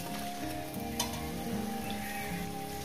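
Potatoes fry in hot oil in a pan, giving a steady close sizzle with light bubbling and faint stirring, moderately loud and without talk.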